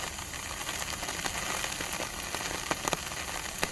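Rain falling in Chhattisgarh, India: steady patter of drops on a hard surface with scattered sharper taps and crackles, continuous and moderately close, with no voices.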